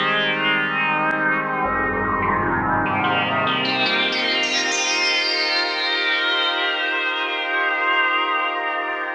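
Softube Model 80 synth plays a sustained chord through a chorus effect that pans the voices left and right, with a bright sweeping tone and pitch glides. Loud and continuous, with no talking.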